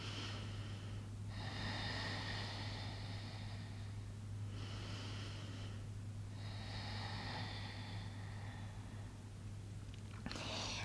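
Slow, deep yoga breathing, long airy exhales through the nose repeating every few seconds, close and steady over a low background hum, with no speech.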